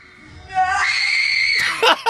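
A woman screams in a reel played back during a podcast, one long, loud, high-pitched shriek lasting about a second, followed by brief vocal bursts.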